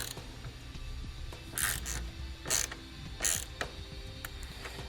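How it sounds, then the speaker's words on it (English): A 7/16 ratchet wrench and socket snug up a nut on trailer wiring hardware, giving three short, close bursts of ratcheting clicks separated by brief pauses against a quiet background. "we can come back with that same 7/16 wrench and socket and snug up our hardware."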